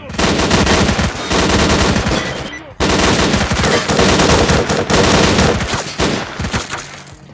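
Sustained, loud gunfire in S.T.A.L.K.E.R.: Clear Sky rains onto the player in dense automatic bursts, with one brief break, and keeps hammering almost without pause for the whole stretch.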